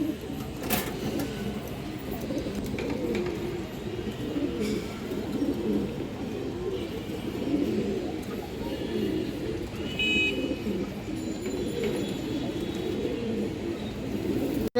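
A silver male pigeon coos in low, repeated throaty rolls, nearly continuous and fairly close, with faint background noise and no one speaking.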